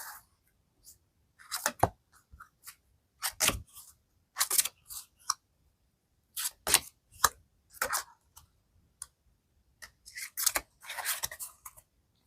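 Tarot cards are handled and arranged up close: crisp, irregular snaps and slides of cards being gathered and tapped together, with silent gaps between the bursts.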